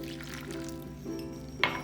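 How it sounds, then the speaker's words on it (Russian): Water is poured into a saucepan holding strawberry pieces, a soft steady pour over a low hum, ending in a brief louder splash near the end. "Отправляем в сотейник кусочки клубники, сюда же воду"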